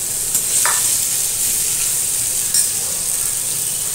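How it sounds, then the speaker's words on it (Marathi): Boiled val beans and boiled butter tree (mahua) fruit stir-frying in a pan give a steady, close sizzling hiss with a couple of brief stirring scrapes. No one speaks. "त्याच्यानंतर हे वाल घालून घेऊ उकडलेले। सगळ्याच्या मोंदुऱ्या पण घालून घेऊ उकडलेल्या।"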